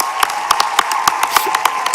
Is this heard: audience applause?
yes